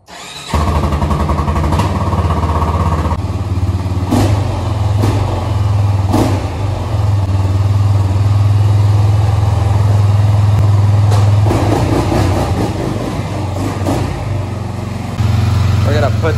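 A motorcycle engine starts and settles into a loud, steady idle with a low rumbling hum and occasional higher mechanical clicks, close by and continuous.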